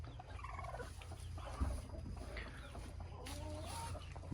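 Broody hens in a backyard coop cluck softly and intermittently over a low hum, with short chirpy calls scattered throughout and one brief thump.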